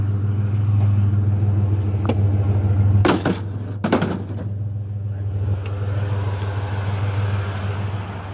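A truck on a street gives a steady, loud, low engine rumble throughout, broken midway by a couple of sharp clattering bursts.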